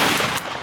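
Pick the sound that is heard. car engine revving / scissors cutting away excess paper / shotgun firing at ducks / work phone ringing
shotgun firing at ducks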